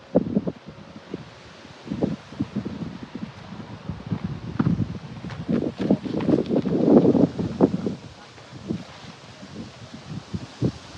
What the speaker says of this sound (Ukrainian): Вітер який класний.